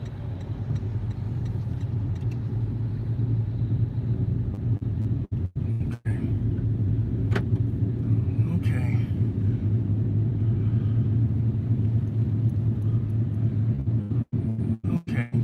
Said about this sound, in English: Car's running well.